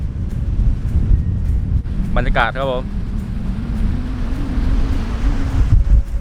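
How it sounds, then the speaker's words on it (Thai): Strong evening wind at a campsite below Krasiao Dam in Dan Chang, Suphan Buri, buffets the microphone in heavy continuous rumbling gusts, while someone speaks briefly over it. "ลมแรงมากครับ"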